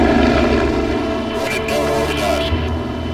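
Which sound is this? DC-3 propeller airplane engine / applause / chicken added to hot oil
DC-3 propeller airplane engine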